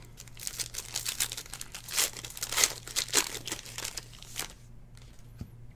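A football trading card pack is torn open by hand, with crisp crinkling and ripping of foil wrapper in several close bursts, fairly quiet, then a brief pause near the end.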